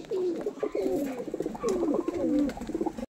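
Andhra pigeons, breeding pairs kept for sale, coo in a steady run of soft, throaty, rolling calls close by. The calls come in repeated bursts over a few seconds with no one talking.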